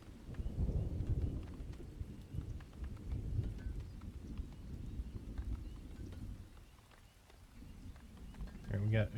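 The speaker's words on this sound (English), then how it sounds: "The thunder and rain sounds really good." Soft rain patters steadily in the video game Farthest Frontier while low thunder rumbles in the distance, swelling and fading.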